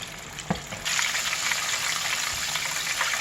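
Large hot wings frying in a pan at around 325 to 350 degrees until browned, a steady, close sizzling hiss that swells after a brief soft clatter and continues evenly.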